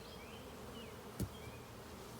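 Honeybees buzz steadily around an open hive during a spring inspection, a soft continuous drone with a brief louder thump partway through.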